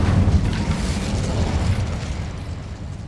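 An Incendio fire spell from Hogwarts Legacy bursts with a loud, rumbling whoosh that is heaviest at the start and then fades into a rolling roar, with no talking.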